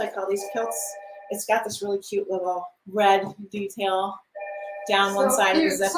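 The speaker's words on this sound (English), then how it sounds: "the phone's ringing" A telephone rings in a small shop or home setting during a holiday clothing showcase, its bell tone sounding repeatedly behind near, continuous talk from a woman describing garments.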